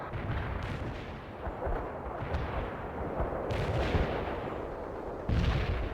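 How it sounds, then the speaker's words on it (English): Sustained artillery barrage in the World in Conflict video game, a dense continuous rumble of overlapping booms and blasts with sharper bursts near the start and end, loud and steady throughout with no talk. "Commencing the barrage."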